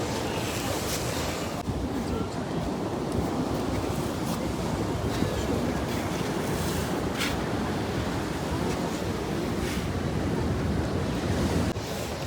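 Ocean surf rolls continuously onto a promenade beach at Eden Beach in Pondicherry, a steady loud wash of waves mixed with wind buffeting the microphone.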